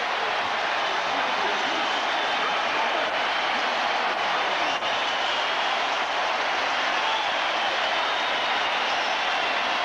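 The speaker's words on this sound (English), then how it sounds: "Listen to this crowd." A football stadium crowd roaring after a Buffalo Bills touchdown in a 1990 game against the Raiders, producing a loud, steady wash of cheering and applause that fills the whole span.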